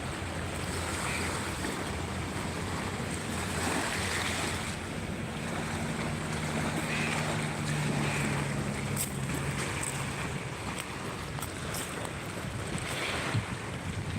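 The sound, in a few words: ocean waves at beach near Maldives airport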